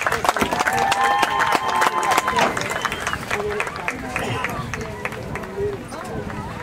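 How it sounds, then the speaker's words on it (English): Crowd applause at a women's college soccer game honoring five young players, broadband clapping with an announcer's voice over the speakers throughout. "Let's have a big round of applause for these 5 special young ladies"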